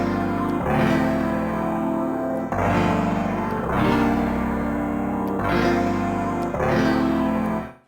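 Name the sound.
Tekno Keyz VST dark piano preset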